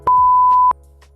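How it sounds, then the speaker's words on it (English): A single steady censor beep, a pure tone lasting about two-thirds of a second, covers a swear word in a casual beer-tasting chat about Cloudwater brewery, with faint speech fragments on either side. "If we beeped every swear word we said in this"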